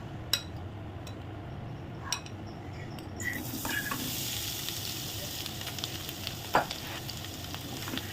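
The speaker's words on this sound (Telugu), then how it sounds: "పన్నీర్ ముక్కలు, వాటిని వేసుకొని వేయించుకుందామండి." Paneer pieces coated in masala frying in hot oil, giving a steady close sizzle that grows fuller partway through, with occasional clinks of a spoon against the pan.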